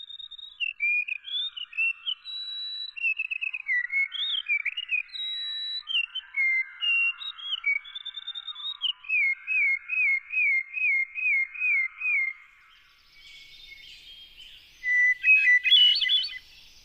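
Birdsong is first played slowed down, each whistled note rising and falling distinctly in quick repeated phrases, then a brief burst at normal speed sounds as a fast, high twitter; clear and isolated.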